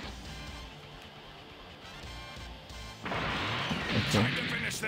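An Eraser Cannon ki blast fires in Dragon Ball Z Budokai Tenkaichi 3, a sudden loud explosive crash that swells and holds, following a stretch of game noise and speech.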